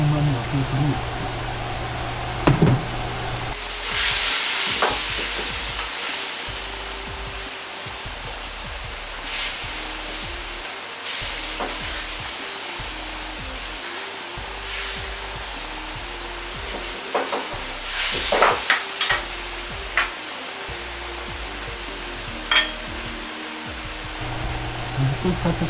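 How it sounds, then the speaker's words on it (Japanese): A grilled hamburger steak simmers in soup in a pan for a Chinese-style dish, giving a steady bubbling sizzle under a continuous hiss, broken by occasional clinks and louder spikes. "焼いたハンバーグを入れ、軽く煮て肉の旨味をスープに移す。"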